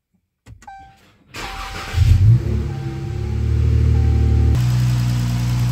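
A car engine with a newly installed cold air intake cranks with a short whir, fires and revs briefly, then settles into a steady, loud idle with a droning note, heard close up.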